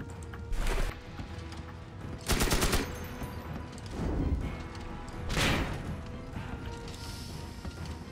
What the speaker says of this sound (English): Oh, good thing I have a machine gun.